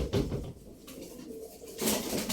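Pigeons in a breeder's flock cooing in soft, low, repeated calls, fairly close, with rustling and broadband noise around them and no voices.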